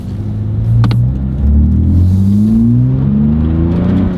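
A 2023 Nissan Z with over 500 hp from full bolt-ons accelerates hard through the gears on a rainy morning, its engine note rising in long sweeping climbs with a brief dip at a shift, loud and close from inside the cabin.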